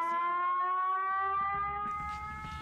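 A loud civil-defense-style siren wails in a Spanish comedy sketch, one sustained tone sliding slowly upward, with clatter and noise building beneath it near the end.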